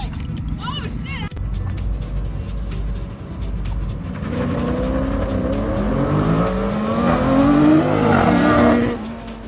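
A car at a street meet revs hard and accelerates away with tires squealing, the engine note climbing loudly over the last seconds while people talk and shout nearby.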